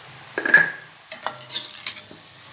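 Boiled potatoes being stirred and broken up in a pan for a fish-head khar dish, with spoon scrapes and metallic clinks against the pan in two short bursts, close by and fairly clear.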